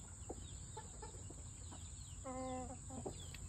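Several short broody hen clucks and chirps close by over a steady background hum, with a brief harmonic call in the middle.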